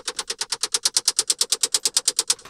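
Processed car engine sound built for an Unreal Engine 5 game, a rapid, hyper clinky metallic rattle of about twenty evenly spaced bright bursts in under three seconds, loud and dry with no voices.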